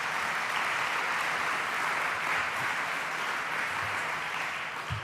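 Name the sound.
round of applause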